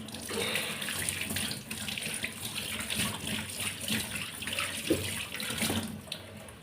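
A kitchen vessel is rinsed under a running tap, water splashing and rushing steadily into a sink with shifting gurgles and splatter as it is moved around, close and continuous.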